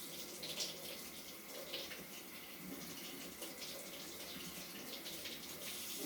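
Running kitchen tap water splashes steadily over food being rinsed in a sink, a continuous broadband rush with no talk over it.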